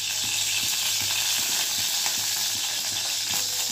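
Ghee heated in a kadai for a Bengali vegetable stew sizzles and crackles steadily, close and continuous, with faint pops scattered through the hiss and no voices.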